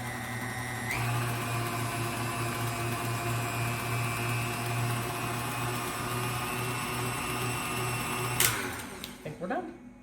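An electric mixer whirs steadily at constant speed through pumpkin chiffon pie filling, a loud, even motorized drone that cuts off near the end, followed by a few faint clatters.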